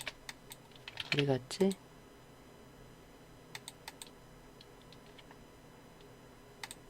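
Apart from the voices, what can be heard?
computer keyboard shortcut key presses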